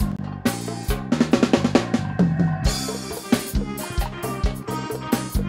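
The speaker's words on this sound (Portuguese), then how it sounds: "Esse é o som do paredão." Loud paredão car sound system blasting Brazilian dance music with heavy booming bass and a steady punchy beat, continuous and close, with no talking.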